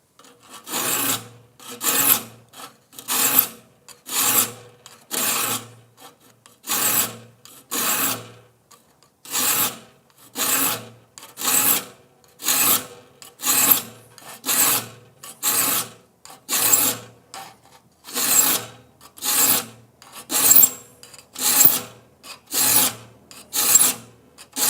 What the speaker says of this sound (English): You'll want to make sure that you use a sharp file when sharpening your saw.